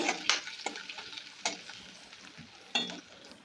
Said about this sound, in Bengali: দিয়ে ভালো করে পেঁয়াজটাকে আমি ভেজে নিলাম